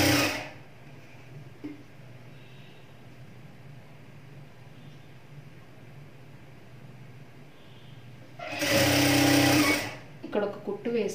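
A sewing machine stitching a blouse runs in one loud burst of rapid whirring near the end, after a stretch of quiet room noise while someone talks.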